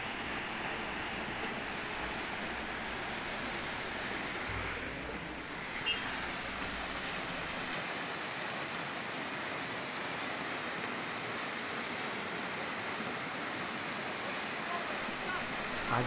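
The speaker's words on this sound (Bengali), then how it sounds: "ঝর্ণার জল আস্তে আস্তে নদীর রূপ হচ্ছে" Mountain waterfall water flows into a stream on the route toward Lachung, heard as a steady broadband rush with faint wind. Voices from a crowd of visitors may murmur beneath it.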